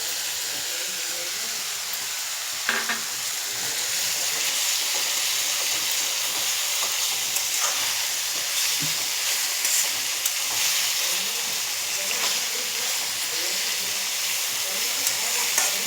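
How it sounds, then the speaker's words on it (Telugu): Chicken fries in hot oil with ginger garlic paste, giving a steady, close sizzle and hiss throughout, with a few faint clinks of stirring and no talk. "ఇది చక్కగా కొంచెం ఫ్రై అయిపోయిన తర్వాత ఇప్పుడు అల్లం వెల్లుల్లి పేస్ట్ కూడా వేసేద్దాం."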